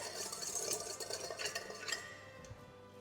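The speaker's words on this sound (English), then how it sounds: "Give that a good whisk." A whisk stirs dry powders in a mixing bowl for a genoise sponge, giving a steady, fairly quiet scraping and ticking that runs for a couple of seconds before fading out.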